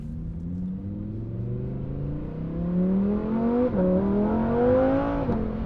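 A Lamborghini Huracan STO engine in sport mode revs up steadily, its pitch climbing with a brief dip as it shifts gear, then pulling higher again, loud and close.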